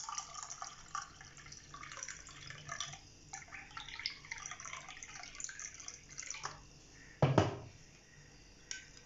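Water poured into a mint lemonade being mixed with spoonfuls of sharbat, a soft trickling pour with a brief louder splash midway and a small clink near the end, no talking.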